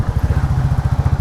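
A motorcycle engine thrums with a steady, fast, throbbing pulse on a road running through the Hampi heritage ruins. It sounds fairly close and loud, with no speech.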